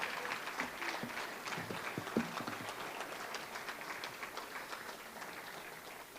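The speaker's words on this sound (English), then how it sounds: "Let's give a round of applause, everybody." Audience at a conference breaks into steady, dense applause, a continuous wash of many hands clapping at moderate volume that carries on evenly throughout.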